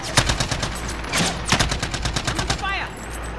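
Rapid automatic gunfire rattles in Call of Duty: Modern Warfare, dense bursts of repeated shots, loud and close, with a voice talking briefly over it.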